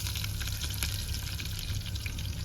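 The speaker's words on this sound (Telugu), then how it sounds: "ఆవాలు జీలకర్ర వేసుకున్న తర్వాత మనం ఆనియన్స్ వేసేసుకుందాం ఆలు కుర్మకి." Sliced onions for potato kurma sizzle in hot oil already seasoned with mustard seeds and cumin, a steady, fairly quiet crackling hiss running throughout with no talking.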